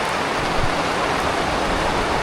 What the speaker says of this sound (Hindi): ये देखो बारिश कितनी तेज हो गई